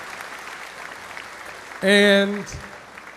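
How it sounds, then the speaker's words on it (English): Audience applause at a graduation ceremony for a school class of 2025 fills a large hall, a steady moderate patter that a single voice briefly cuts through near the end. "a round of applause."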